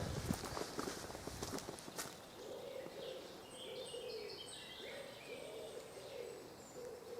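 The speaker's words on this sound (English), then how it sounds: "All the bird song." Birds sing and call in Coed Mawr woodland, with a steady chorus of chirps and warbles at moderate distance and low cooing tones underneath, after footsteps crunch along a path at the start.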